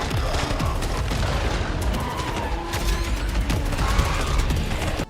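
Gunfire and explosions from a bullet hell video game, a continuous dense barrage of rapid shots and booming blasts throughout.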